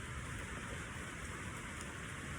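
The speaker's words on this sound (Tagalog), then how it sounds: "umaambon. Malakas ang ambon." Steady, faint hiss of a strong drizzle falling outdoors, an even continuous patter with no distinct drops and no voices.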